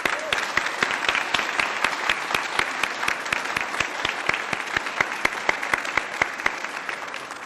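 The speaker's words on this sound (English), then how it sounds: "How about a round of applause for our public servants?" An audience at a city hall unveiling ceremony applauds public servants; one close, loud clapper keeps a fast, regular beat over a softer bed of crowd applause.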